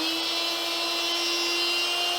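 An electric rebar cutter runs with a steady, loud motor whine and a high mechanical hum, one continuous tone from start to end with no voices.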